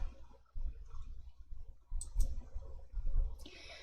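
Computer mouse clicking on a spreadsheet cell during a DIAT Excel exercise, a few soft close clicks spaced through the quiet, with faint background rumble.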